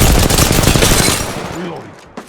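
Loud, dense bursts of rapid gunfire in the Apex Legends video game, a rattling fusillade up close that fades into a tail near the end, ending with a short sharp click.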